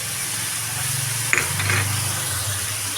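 Garlic frying in oil with turmeric, salt and green chilli paste for begun posto, a steady close sizzle with a brief spoon scrape and stir near the middle, no voices.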